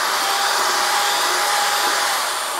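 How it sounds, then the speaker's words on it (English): Loud, steady whirring drone of a power mixer stirring suspended pottery glaze materials in a bucket, constant and close for a few seconds with no speech. "So the particles will settle, so we have to stir them every time."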